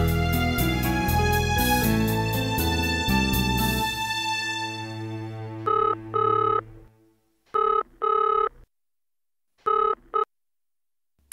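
A telephone bell rings steadily, then gives way to a repeating electronic tone in short, evenly spaced bursts separated by silence.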